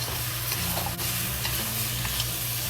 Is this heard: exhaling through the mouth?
no